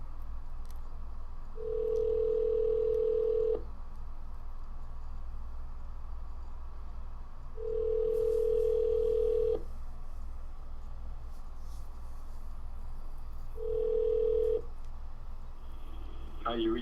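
Three long steady telephone tones sound at regular intervals on a power dialer during sales calls, separated by pauses over a constant low line hiss.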